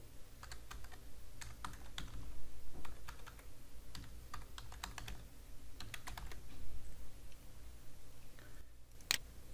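Typing on a computer keyboard, rapid bursts of close clicking key taps with short pauses between them, ending in one sharper click.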